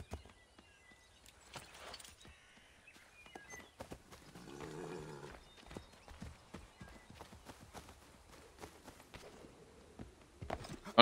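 Hooves of a horse walking close behind on a steep mountain descent, a loose irregular clip-clop of single steps on rough ground, fairly near and moderately loud, with a brief breathy snort midway.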